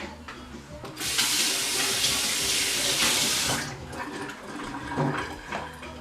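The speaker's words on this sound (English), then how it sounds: "let me wash my hands quick" A kitchen tap runs for hand-washing, a loud steady rush of water for about two and a half seconds, with quieter handling sounds before and after.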